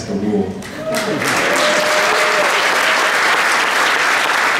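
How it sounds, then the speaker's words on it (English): Audience at a high school band and chorus winter concert breaks into applause after brief music, the clapping rising quickly and holding as a loud, dense, sustained wash, with scattered crowd voices mixed in. "if they clap at the end, we'll play one more"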